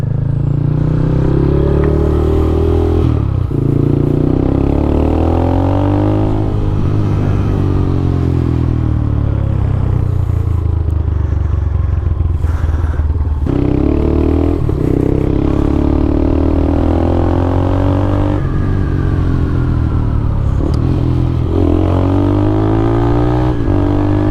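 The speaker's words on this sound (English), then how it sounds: "As you can probably hear, that exhaust is thumping away quite happily." A Yamaha Scorpio 225 motorcycle exhaust thumps and burbles steadily throughout while riding, its pitch rising and falling with the throttle, loud and close, with no talking.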